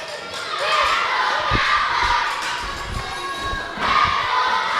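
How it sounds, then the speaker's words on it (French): Crowd at a youth hockey tournament game between the Nordiques and the Cowboys, a sustained loud mass of children and spectators shouting and chanting, swelling at the end, with occasional thumps and bounces beneath. "J'entends appeler les Cowboys plus fort que les Nordiques."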